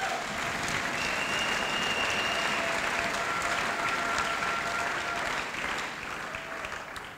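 A church congregation applauds the Lord during a sermon, steady dense clapping from a large crowd that holds for several seconds with faint whistles or cries over it, then eases slightly at the end.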